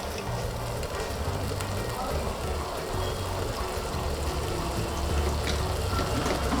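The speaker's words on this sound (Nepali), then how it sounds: "यसमा चाहिँ म जुन टमेटो पेस्ट राखेको बोलबाट पानी राखिरहेको छु" Water is poured from a bowl that held tomato paste into a hot pan of cooking food, giving a steady hiss and sizzle that runs without a break.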